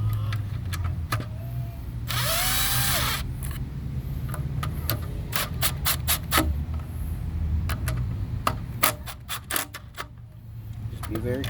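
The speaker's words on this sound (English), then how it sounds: "I got the M18 quarter-inch." A Milwaukee M18 quarter-inch impact driver tightens throttle body bolts on a 2001 Dodge Durango during an intake gasket job. There is one short, loud hammering burst, then a string of sharp mechanical clicks over steady garage noise.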